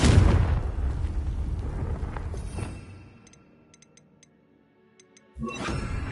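A Confringo spell explodes in Hogwarts Legacy, a loud broad blast that rumbles and decays over a couple of seconds. Faint ticking clicks follow in near silence, then another burst of noise arrives at the end.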